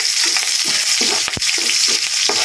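Onion goes into garlic already frying in a pan for chicken adobo, making a loud close sizzle with rhythmic scraping stirs and a brief dip in the hiss partway through.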